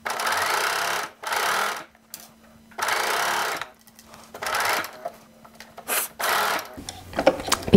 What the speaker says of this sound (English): I'm just gonna serge right across, do one shoulder and go to the other.